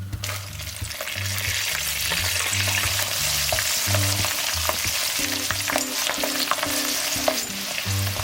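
Garlic and curry leaves fry in oil for a soya-chunk pickle, a loud continuous sizzle with rhythmic stirring clatter from a spoon against the pan, close up and with no talking.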